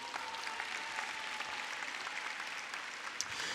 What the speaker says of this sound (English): let's give a round of applause for them as well